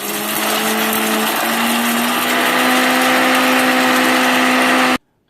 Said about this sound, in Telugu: దీన్ని మ్యాక్సిమం స్పీడ్లో బ్లెండ్ చేస్తాం